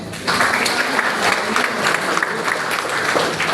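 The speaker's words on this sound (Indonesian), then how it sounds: "Boleh kita tepuk tangan dulu deh" A church congregation breaks into loud, sustained applause, many hands clapping together in a full, even roar that starts sharply and holds steady to the end.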